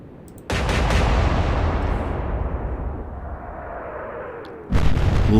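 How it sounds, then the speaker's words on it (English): Battleship gun salvo in the naval video game Atlantic Fleet, a heavy booming blast that rolls into a long decaying rumble, followed by a second loud report at the end. "Lovely salvo."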